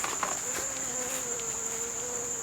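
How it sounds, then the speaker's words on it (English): Bees buzzing around squash plants in a morning vegetable garden, a steady soft hum with a faint high insect drone in the background. "The bees are really working the squash this morning."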